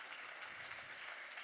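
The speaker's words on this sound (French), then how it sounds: "On peut l'applaudir, il est dans la salle avec nous." Faint applause from a seated audience at an influence-industry award ceremony, a brief steady patter of clapping heard at a distance.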